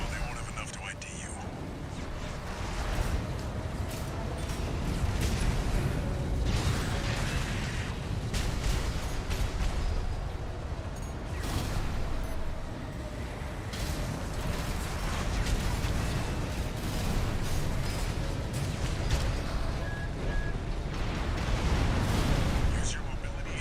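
Armored Core VI mech combat with explosions going off on the ground: a dense, continuous roar of blasts, rumbling booms and mechanical clatter, loud and close throughout with no clear break.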